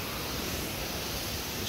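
Steady, even rushing of a waterfall, a continuous broadband wash at moderate level. No voices or other distinct sounds stand out.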